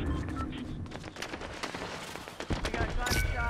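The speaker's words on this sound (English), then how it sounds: "We got gunshot." Gunfire rings out in a Fortnite no-build match, a scattered burst of sharp reports across the clip, fairly loud and dense amid game noise.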